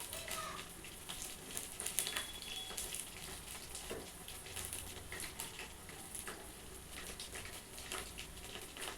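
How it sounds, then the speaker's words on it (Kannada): Soya chunks frying crisp in hot oil give off a steady, even sizzling hiss. The sound stays at a moderate level throughout with faint bubbling flickers. "ಎರಡು ಸೈಡು ಕ್ರಿಸ್ಪಿಯಾಗಿ ಫ್ರೈ ಮಾಡ್ಕೊಳ್ಬೇಕು"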